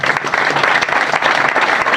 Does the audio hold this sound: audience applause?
yes